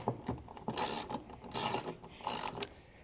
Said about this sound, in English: We're going to be taking out these 10 mil bolts.